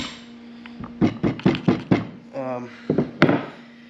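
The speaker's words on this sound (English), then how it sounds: "grab a hammer and very gently drive it in with a socket" A hammer gently taps a socket to drive a seal into place on a sawhorse, in a series of about eight close, sharp knocks and a short ratchety rattle, over a steady hum, with no talk.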